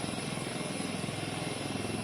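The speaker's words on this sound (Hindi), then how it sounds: "सबसे हल्का लड़ाकू हेलीकॉप्टर एलसीएच है" An Indian Air Force Light Combat Helicopter (LCH) produces a loud, steady rotor and turbine-engine roar that stays constant from start to finish, with no voices.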